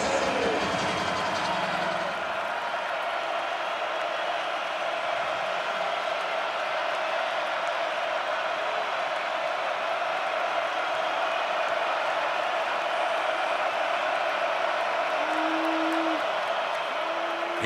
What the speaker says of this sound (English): And there's that crowd again trying to get the offense out of rhythm.